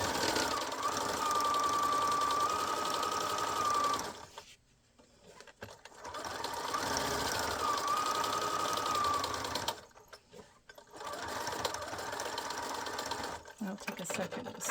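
A sewing machine stitches adhesive-backed binding onto a square-cornered art quilt, running in steady motorized bursts of about four seconds each, separated by brief pauses, close and continuous.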